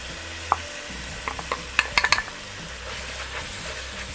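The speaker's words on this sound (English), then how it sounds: "Stir that in real good. And then as we're doing the garlic, real quickly, I want to go ahead and add all my spices." Garlic and spices stirred in a hot pan for a keto peanut curry chicken give a low steady sizzle, with scattered spoon taps and scrapes against the pan up close.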